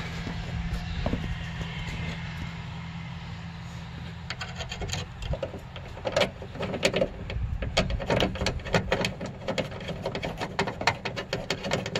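Bolts are run into the trunk latch of a 2007-2011 Toyota Camry, probably with a power tool. A steady low whir carries rapid ticking and rattling, which grows denser and louder over the second half, close by with no talk.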